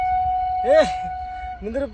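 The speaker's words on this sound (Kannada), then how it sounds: "ಅಲ್ಲೇ ಟ್ರೈನ್ ಹೊಂಟೈತಿ, ಹೀಗಾಗಿ ಟ್ರೈನ್ ಸೌಂಡ್ ಕೇಳತೈತಿ ನಿಮಗೆ." A passing train sounds a steady, sustained horn tone that runs through the whole stretch, with someone talking over it nearby.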